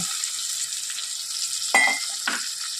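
Bowl-rinsing water splashes into a pabda fish curry masala frying in a pan, setting off a steady close sizzle with two sharp bursts of spatter.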